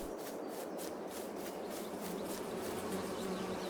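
Bees buzzing in a farming video game, a dense steady drone with a rhythmic pulsing flutter, close and continuous with no talk over it.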